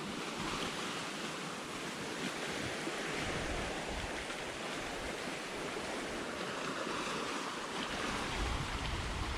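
Waves lap steadily along the shore of a large lake on a breezy day, a continuous broadband wash of water close by, mixed with low wind rumble against the microphone and no voices.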